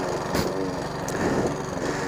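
A Sovereign lawn mower runs while cutting grass, its small engine giving a steady, close droning buzz with slight fluctuations in load and no pauses.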